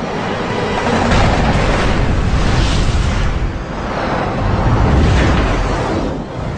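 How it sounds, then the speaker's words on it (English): The empty fuselage of a MiG jet fighter explodes after being hit by .50 caliber gunfire over Korea, a sustained roaring blast that rumbles and surges in heavy waves for several seconds. "Seconds later, the empty fuselage explodes."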